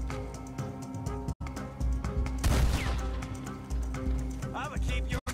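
Rapid gunfire in a Red Dead Redemption 2 shootout, repeated loud cracks and bursts over a busy game soundscape, with hoofbeat-like clatter and a short swell of noise mid-way.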